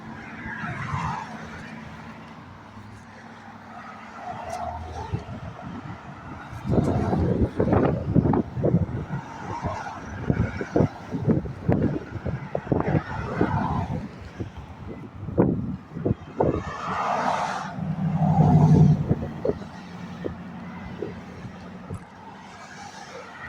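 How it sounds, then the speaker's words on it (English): Several cars pulling out of a church parking lot on a Sunday, tyres and engines rising and fading at moderate distance over steady outdoor wind noise, with a few louder passes in the middle. "A couple more cars leaving"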